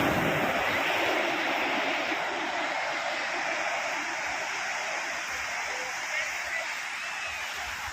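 Swelling sea water at Mohona Shankarpur beach gives off a steady broadband wash of surf with wind noise, loud and continuous for the whole stretch.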